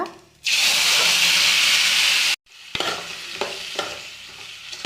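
Tomato and green chillies hit hot oil for a roti chutney, a loud, bright sizzle bursting up close, then cutting off before softer stirring scrapes and spatters resume.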